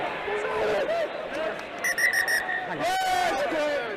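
Several short, shrill bursts of a referee's whistle blown in quick succession at a rugby match, rising over crowd murmur and chatter in a large stadium.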